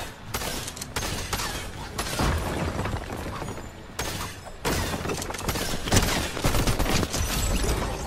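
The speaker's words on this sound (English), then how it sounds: "That's the War Machine's auto turret." Sustained automatic gunfire from a War Machine auto turret in Fortnite, a dense, loud chatter of shots rolling on for about eight seconds with brief dips near the first, second and fourth seconds, amid booms and mechanical clatter of battle.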